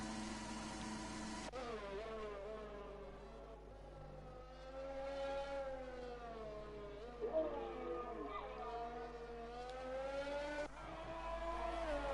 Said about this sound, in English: I'm now on board with Simo1 UK in the McLaren as he goes about setting a lap